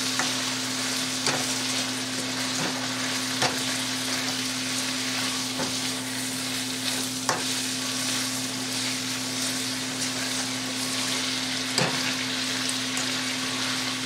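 Wild turkey pieces sizzle in a pan as a stir fry with garlic honey teriyaki sauce, a steady close frying hiss broken by occasional sharp pops and stirring clicks, with a low steady hum underneath and no talking.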